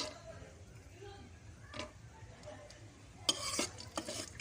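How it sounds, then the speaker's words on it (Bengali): Peanuts stir-fried in a little oil in a village kitchen, with a soft, steady sizzle, a few scraping stirs and clinks from a spatula against the pan, and a sharper run of metallic scrapes near the end. "এখন আমি অল্প একটু তেলে বাদামগুলো এখন আমি ভেজে নেব"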